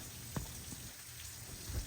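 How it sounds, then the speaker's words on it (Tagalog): Steady rain hisses softly and continuously, with a few faint drips and a low rumble underneath. "Bakit may mga napatak na ulan?"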